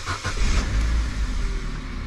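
An Opel Corsa car engine starts and settles into a steady, close, loud low rumble. The car is being reassembled after dashboard work. No voices are heard.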